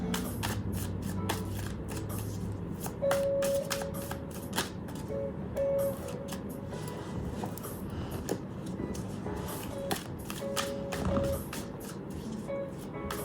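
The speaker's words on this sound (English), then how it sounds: "I have to just shuffle it this way so I can catch them" Tarot cards shuffled close by, a rapid run of papery flicks and clicks in irregular bursts over a faint steady hum.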